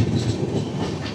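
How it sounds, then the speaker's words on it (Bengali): The Humsafar Express pulls into Berhampore station at night, a brief close rumble of rolling railcars with faint wheel clatter. "এই দেখুন আমাদের বহরমপুর স্টেশন ঢুকছে ট্রেন।"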